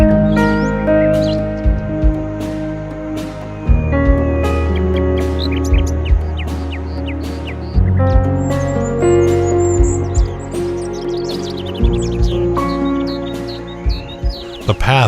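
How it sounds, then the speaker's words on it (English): Birds chirp and call in an autumn forest, short scattered tweets rising over a steady bed of sustained music that dominates throughout. "The babbles of birds and rustle of fallen leaves underfoot greet my ear"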